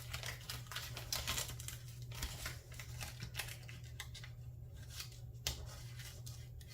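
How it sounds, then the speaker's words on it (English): A sticker is fumbled with and then ripped, producing close, continuous crinkly peeling and scratching with a few sharper snaps, fairly quiet, no talking. "Sorry, I am fumbling with this sticker. And then I rip it."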